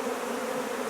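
Honey bees buzz around a marked queen while her paint dries, giving a steady, close, dense hum with no voices.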